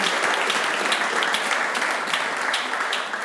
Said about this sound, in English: Can we get a round of applause for Lorenzo being best dressed?